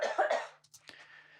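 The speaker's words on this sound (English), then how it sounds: "it sounds like, you know, a natural cough rather than being pitch shifted down" A single cough sound effect, pitched down to sound natural, comes as a short throaty burst followed by a quieter trailing breath.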